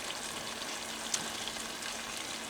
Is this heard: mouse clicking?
no